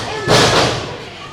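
A heavy thud as a wrestler is hauled back into the ring during a wrestling match, one loud broadband impact that rings briefly and fades.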